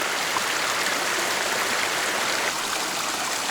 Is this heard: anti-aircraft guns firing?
no